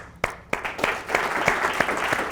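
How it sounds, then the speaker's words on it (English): Sparse, scattered handclaps from a small audience at a live jazz concert in a library, a few distinct claps building into light applause, fairly close. "Can we have a round of applause"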